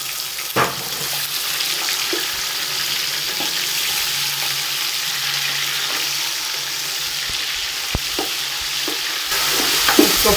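Goat meat frying in a pot for biryani, a continuous broad sizzle with scattered light clicks and scrapes of stirring, steady and close throughout, no voices.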